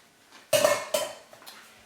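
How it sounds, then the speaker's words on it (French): Rehydrated bulgur being drained in a kitchen while making Lebanese tabbouleh, heard as two sharp clattering knocks of a pot or strainer close by, followed by a fainter third bump. "On va passer l'eau. Là, on l'égoutte bien."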